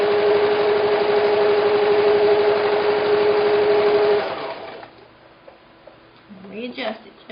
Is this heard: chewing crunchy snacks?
no